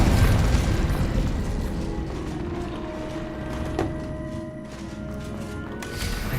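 Incendio fire spells go off in the Hogwarts Legacy video game: a loud booming burst at the start, then a sharp crack midway, over a constant rumbling game background.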